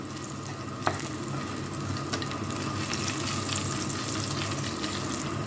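Garlic tempering crackling in hot oil for a Bengali dish: a dense, steady close sizzle with a sharp clink near the start and faint utensil taps.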